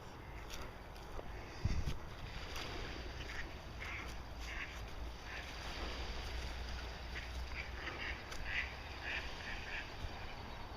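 Ducks quack repeatedly at a distance over steady outdoor background noise, with a brief thump near the start.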